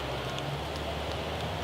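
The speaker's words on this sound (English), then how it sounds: "Now that it's raining quite a bit, I'm going to go inside" Steady outdoor rain falls in a continuous hiss with scattered drops striking nearby surfaces, even and moderately loud throughout.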